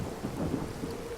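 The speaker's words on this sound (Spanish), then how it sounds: "La lluvia seguía cayendo implacablemente" Steady rain falling with a low rumble of thunder, a storm sound effect for a horror audio story; a continuous dense wash of rain, fairly loud and close, with no voices.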